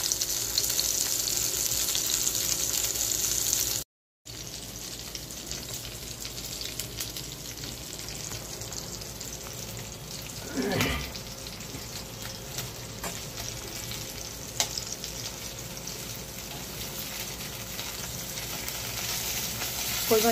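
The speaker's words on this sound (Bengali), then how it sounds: "মাছটা ভাজা হচ্ছে।" Desi koi fish sizzling as it fries in hot oil for a light potato curry, a steady close crackle of frying that runs the whole time, broken by a brief dropout early on, with no talking.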